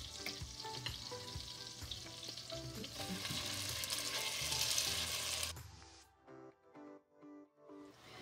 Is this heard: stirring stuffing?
yes